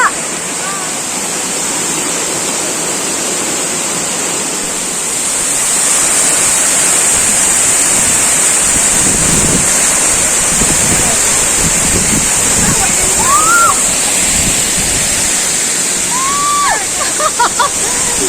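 Dikoy waterfall, source of the Nonoi river in Nagaon, Assam, roars with a steady loud rush of falling water, wind buffeting the microphone and a few faint bird chirps near the end.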